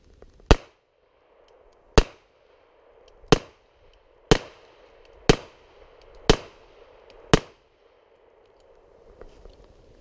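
A Sig Sauer Legion 229 pistol fires seven sharp, loud shots in a steady rhythm about a second apart, each followed by a short outdoor echo, then falls quiet.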